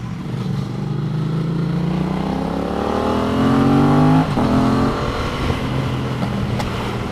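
A Yamaha MT-07 motorcycle engine with modified exhaust revs up steadily with rising pitch, peaks, then drops and settles into a rough, pulsing idle and low throttle, loud and close, while riding.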